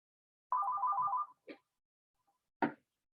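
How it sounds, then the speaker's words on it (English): A mobile phone rings with an incoming call during a quiet meditation and movement class: a warbling electronic ringtone lasting under a second, then two short tones, clear and alone in silence. "Sorry, a phone call I can't control."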